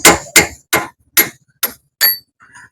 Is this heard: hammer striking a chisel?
yes